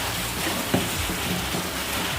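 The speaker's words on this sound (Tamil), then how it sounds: "மழை வர ஆரம்பிச்சிருச்சு." Steady rain falls outdoors in Kodaikanal during a cooking session, a dense, even hiss that fills the whole stretch without pause and carries no speech.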